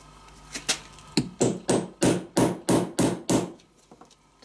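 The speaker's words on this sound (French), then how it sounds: "en même temps, je tape avec un marteau" Hammer blows on a part of a 50cc Beta RR motorcycle: about eight loud, close, evenly spaced metallic strikes in a steady rhythm, a few faint lighter taps following, no talking.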